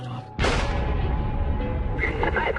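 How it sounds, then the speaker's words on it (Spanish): A single sharp blast bursts out abruptly after a brief murmur, followed by a rumbling, noisy tail. "Entonces sonó el tercer disparo."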